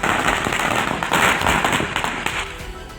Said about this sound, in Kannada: ಹೊಸ ಫ್ಲೆಕ್ಸ್ ಹಾಕ್ತಿದ್ದಂತೆ ಬಿಜೆಪಿ ಕಾರ್ಯಕರ್ತರು ಪಟಾಕಿ ಸಿಡಿಸಿ ಸಂಭ್ರಮಿಸಿದರು